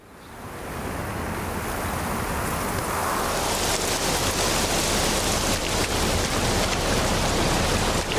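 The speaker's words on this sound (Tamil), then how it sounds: "மழை ரொம்ப அதிகமா பெய்யுது." Heavy cartoon rain swells within the first second into a dense, loud, continuous hiss and roar, then pours on steadily with no voices.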